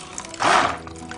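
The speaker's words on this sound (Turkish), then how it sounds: "5 bardak suyu ekliyoruz." Water poured into blended pumpkin soup in a pot, a short gurgling splash rising and fading over about half a second against quiet kitchen background.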